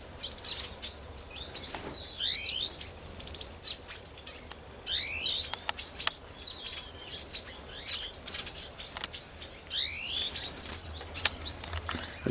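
Crimson rosellas calling near lilly-pilly trees, a series of bright, high whistled chirps and squeaky notes repeating in bursts, fairly close, over a faint insect hum with no talking.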